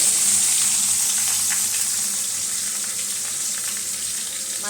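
Fish frying in a pan, a loud continuous sizzle with crackling hiss that holds steady and fades slightly toward the end, no talk.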